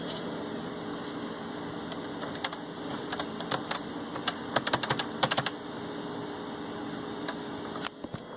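Keys clatter on the keyboard of an old PC from the Pentium and 286 era, in irregular bursts of close, crisp clicks over a steady fan hum, with no talking.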